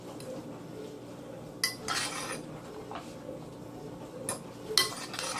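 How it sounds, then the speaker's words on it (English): A spoon scrapes and clinks against a dish as vegetables are mixed into leftover turkey meat, giving close, irregular clatters and stirring rubs with a few louder knocks. "Mixing the vegetables with your meat"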